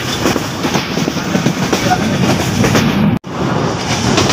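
Passenger train travelling between Dinajpur and Pirganj, heard from inside a carriage: a loud, continuous rumble with rhythmic clattering of wheels on the rails, broken by one brief dropout.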